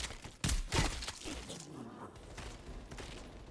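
A shotgun fires in Call of Duty Black Ops Cold War, with two sharp, loud blasts close together early on, then fading into a quieter, rumbling background.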